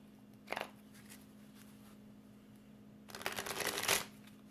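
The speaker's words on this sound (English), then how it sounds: "While I'm shuffling" Tarot cards being shuffled by hand, a brief riffle followed by a longer, louder burst of rapid papery flicking over a faint steady hum.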